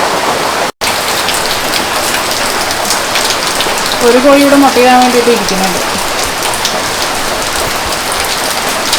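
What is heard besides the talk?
heavy rain falling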